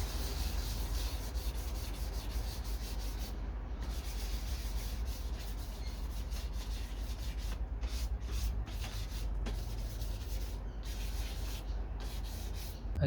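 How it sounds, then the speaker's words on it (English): Hand sanding filler on a cracked Ford Escort Mk2 RS2000 dashboard, finishing with 1000 grit paper: steady, close, continuous rubbing and scraping strokes with no pauses and no talk. "I've done the final sand, and I finished it off with 1000 grit, so I've really smoothed it out now"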